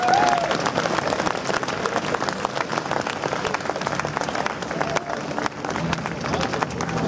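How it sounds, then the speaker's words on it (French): A crowd gathered outdoors in Champéry for the Olympic flame ceremony of the Lausanne 2020 Games claps for the champions, steady dense applause with scattered cheers throughout. "J'aimerais que vous les applaudissiez bien fort,"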